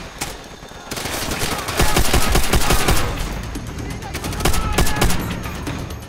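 Gunfire rings out in the World War II shooter Call of Duty: World at War, with dense bursts of rifle and machine-gun fire that swell louder midway, over steady battlefield noise.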